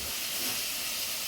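Five-spice seeds, dried red chillies and vegetables frying in hot oil, a steady, close broadband hiss and sizzle that holds evenly throughout with no talking.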